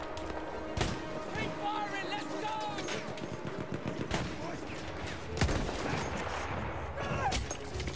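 Rapid automatic gunfire from machine guns in the World War I shooter Battlefield 1, bursts of shots and heavy impacts over a dense battlefield din, while a player talks over the action.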